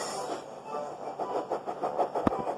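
Thomas the steam engine puffing along his branch line, a rhythmic series of soft chuffs and rail clatter with a sharp click near the end, moderately close and alone.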